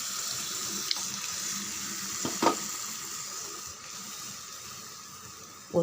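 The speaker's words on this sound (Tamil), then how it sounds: "நம்ம தக்காளி அரைச்ச ஜாரில் இருக்க தண்ணி கொஞ்சம் விட்டு" Water pours from a blender jar into a cooking pan, splashing in a steady hissing stream, with a couple of sharp clinks of a vessel near the end.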